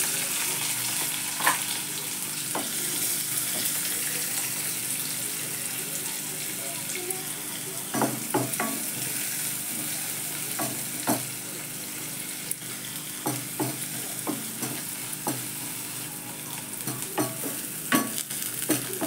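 Plenty of chopped onion frying in a pan for a quick home dinner, a steady close sizzle broken by sharp clinks and scrapes of a spoon stirring, with running water and soft talk in the background.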